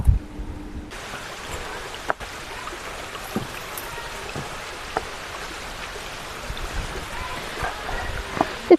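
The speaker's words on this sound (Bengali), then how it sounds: "ধারাগিরি পাহাড় থেকে প্রায় ২১ ফুট উঁচু থেকে এই জলপ্রপাতের জল নিচে আছড়ে পড়ে।" Dharagiri waterfall near Ghatshila pours about 21 feet onto the rocks below, making a constant broadband rush of crashing water that continues steadily throughout.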